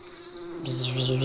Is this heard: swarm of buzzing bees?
yes